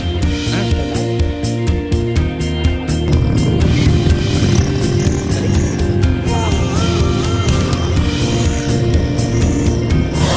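Habal-habal motorcycle taxi carrying riders toward a hiking trailhead, its engine droning steadily and loudly throughout with wind rush and road rumble, no speech over it.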